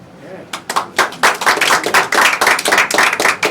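An audience applauds a magic trick at The Magic Castle, with a sharp burst of close, dense clapping that starts after a brief pause and continues steadily to the end.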